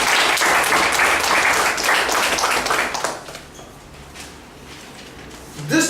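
An audience in a hall bursts into loud, dense applause that holds steady for about three seconds, then thins to scattered claps before a final sharp knock.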